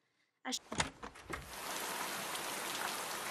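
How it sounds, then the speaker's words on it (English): Heavy rain pours steadily outside a cottage, a dense continuous hiss that starts after a few sharp thumps and builds to a loud, even wash. "This excerpt from Chapter 5 shows Gatsby meeting Daisy at Nick's cottage as it is pouring rain"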